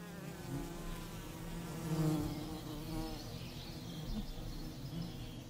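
A wild honey bee colony buzzes steadily inside the cavity of a thick old beech tree, a close, continuous hum of countless foraging bees with no talk.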